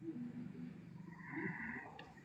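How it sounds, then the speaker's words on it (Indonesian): Someone snores faintly during an online live session, a low, rough breathy rumble heard softly over a hum of background noise. "Siapa ngorok?"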